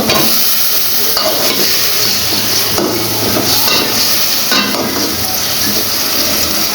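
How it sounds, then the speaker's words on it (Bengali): Loud, dense sizzling comes from pangas fish sautéing with spices in a village kitchen, a constant crackling hiss with occasional scrapes and knocks of stirring throughout. "এই মশলার সাথে এইগুলি কষিয়ে নিব তো আমি মাছগুলি কষিয়ে নিয়েছি"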